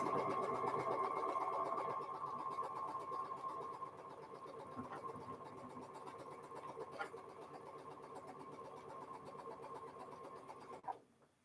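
A home sewing machine stitches the last seam of a windows quilt block, a steady rapid whirring hum that gradually softens and stops near the end, with a faint click as it halts.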